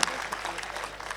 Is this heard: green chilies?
no